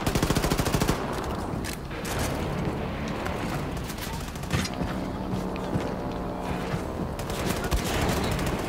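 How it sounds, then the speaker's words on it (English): Dense, continuous gunfire from Wolfenstein II: The New Colossus, with rapid overlapping shots and booms filling the whole stretch at steady loudness, no talk over it. "I'm just gonna shoot this guy"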